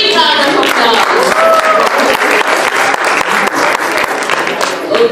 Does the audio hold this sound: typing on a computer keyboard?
no